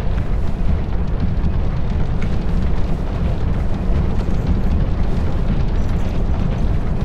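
Explosions from exploding energy orbs in the Dark Souls II Scholar of the First Sin game, a loud, dense, continuous rumbling roar that holds steady throughout without a clear break or pause.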